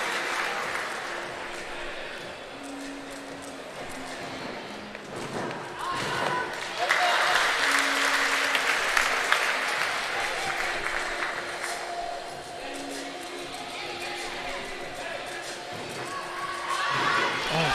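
An arena crowd at a gymnastics World Challenge Cup in Tel Aviv applauds and cheers after a men's floor routine, a broad sustained wash of clapping that swells midway, with a commentator's voice talking over it.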